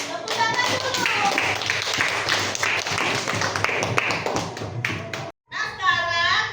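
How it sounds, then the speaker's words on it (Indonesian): A group of children claps together in a classroom at an Islamic religious education lesson, dense rapid claps running continuously with children's voices mixed in, a brief pause near the end, then more clapping and chatter. "Tepuk tangan dulu."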